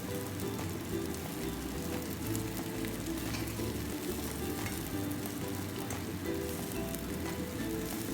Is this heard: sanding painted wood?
no